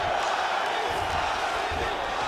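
A big roar rises from the virtual arena crowd in EA Sports UFC 5 during a Khabib Nurmagomedov vs. Ilia Topuria bout, a steady wash of cheering and shouting that stays loud and dense throughout.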